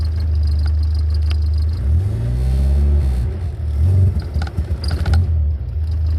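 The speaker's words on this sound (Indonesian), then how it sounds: "Coba kita gas dikit yuk." A 39-year-old Toyota Corolla engine idles at first, then revs up in a few rising and falling surges of mid-pitched roar before settling back to a rough idle, loud and close, with no talking.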